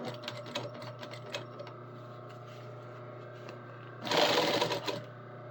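Sewing machine running steadily while stitching the inseam of a pair of pants, with a brief louder, harsher burst near the end as it backstitches, fairly close and alone with no talk.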